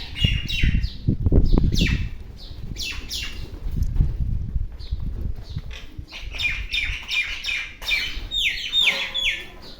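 Many small birds chirp and tweet busily throughout, with some low rustling and fluttering early on.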